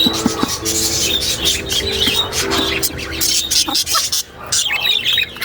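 Parakeets chirp and tweet in a busy, overlapping chatter inside a breeding cage, close by, with some rustling and shuffling underneath.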